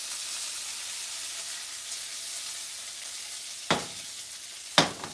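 Breaded shrimp fry steadily in a pan, a constant bright sizzle running throughout with two sharp clatters near the end, no voices present.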